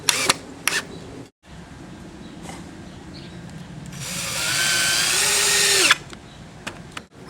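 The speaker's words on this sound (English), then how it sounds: "I'm just going to attach it with 3 2-inch drywall screws." Power drill driving two-inch drywall screws, a couple of short whirring bursts followed by a longer, louder high-pitched spin lasting about two seconds that winds down abruptly, with clicks around it.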